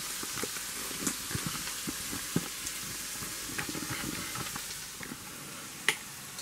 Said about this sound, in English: That's sizzling and bubbling up right nice and good.